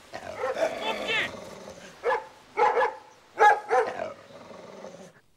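A dog barks in a French period drama set in a household, giving several sharp, loud bursts in quick succession, some paired, mixed with people talking over and between the barks.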